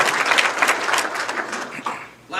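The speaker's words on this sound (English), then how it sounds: "Once again, let's give them a nice big round of applause." Banquet guests at a touchdown club Hall of Fame induction give board members a big, loud round of clapping that swells early and tapers slightly toward the end.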